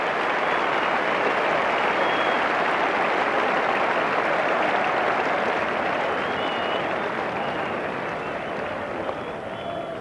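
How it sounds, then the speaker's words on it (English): A big cricket crowd at Headingley applauds generously during an England v Australia Test match, a broad, steady wash of clapping that holds evenly and tapers slightly toward the end. "The big Headingley crowd gives him generous applause, so do his England teammates"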